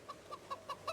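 Chickens clucking in the zombie survival game Project Zomboid, a string of five short, soft clucks spaced about evenly, faint and close with no other sound.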